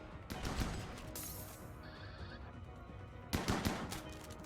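Gunfire in the colony-building game RimWorld, including shotguns, crackling in loud broadband bursts: one long volley, a pause, then another sharp cluster near the end.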